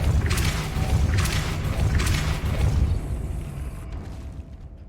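A Depulso spell cast in Hogwarts Legacy: a series of rumbling magical bursts with a few pulsing whooshes over a low drone, fading out toward the end.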